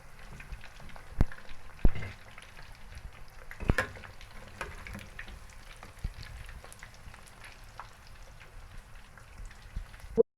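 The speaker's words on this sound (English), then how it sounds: "and frying my meat" Meat frying in oil in a pot while cooking Nigerian jollof rice, a steady soft sizzle with scattered pops and a few clinks of stirring, close and moderate, no talking.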